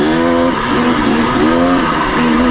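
A Stihl MS194T carbureted top-handle chainsaw with a 16-inch bar running nearby, a loud, steady engine whine that rises and falls in pitch as it revs, with no talking.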